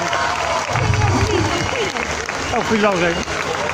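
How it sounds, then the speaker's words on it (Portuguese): A crowd at a Banda Tekos open-air concert in Valadares, 2019, gives a hearty round of applause, dense clapping mixed with cheers underneath someone talking over a microphone. "Uma salva de palmas com força para ele"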